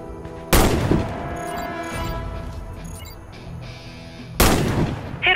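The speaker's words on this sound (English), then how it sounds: "Hit all the targets with your sniper rifle." Sniper rifle shots in the video game Warface, two loud sharp reports several seconds apart, each with a long echoing tail, heard alone without talk.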